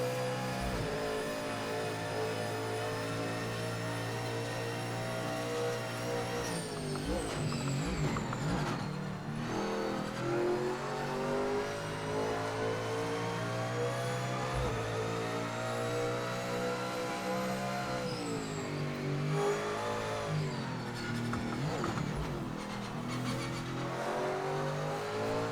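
Race car in a sim racing game accelerating hard out of pit lane, a loud continuous engine roar rising and dropping through gear shifts, with no voices over it.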